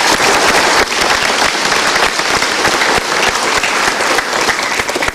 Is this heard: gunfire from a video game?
no